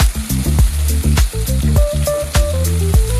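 Star anise, mace and onions frying in hot oil sizzle steadily at close range, while a melodic background music track with plucked notes plays over the cooking.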